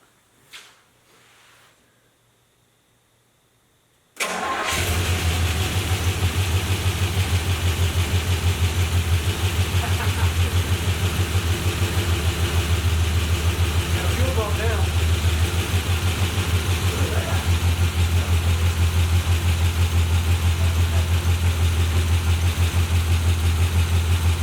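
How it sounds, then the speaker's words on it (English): A 1981 Pontiac Trans Am, abandoned for 18 years, cranks and catches after a few quiet seconds, then settles into a loud, steady, rumbling idle that runs on close by without letup. "We might be able to actually hear it idle and rev up a little bit."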